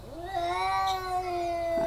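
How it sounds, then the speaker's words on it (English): A cat gives one long, clear, drawn-out meow close to the microphone at a house with a garden and greenhouse, steady and tonal for nearly two seconds with no talking. "So apparently, we are the house for all the cats now."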